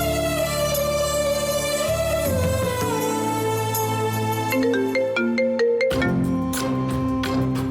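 A mobile phone ringtone plays a bright electronic melody in a Malayalam TV serial scene, with steady, fairly loud tones that shift pitch note by note and continue for several seconds with no talk.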